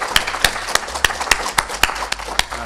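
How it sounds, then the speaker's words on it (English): Audience at a HOPE hacker conference in 2004 applauding dancers, with sharp, distinct claps that sound fairly sparse and close rather than a dense roar. "applause for our dancers"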